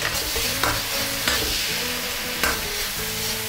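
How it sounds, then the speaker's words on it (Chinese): Pork belly stir-fries in a wok with day lily, tofu skin and shiitake mushrooms, loud close sizzling under rhythmic spatula scrapes and clanks against the pan, no talking. "黄花菜、腐竹和这个香菇一起去翻炒它"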